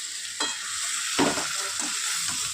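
Pointed gourd and omelette curry sizzles steadily in a hot pan while being stirred, with a few scraping strokes cutting through the constant frying hiss.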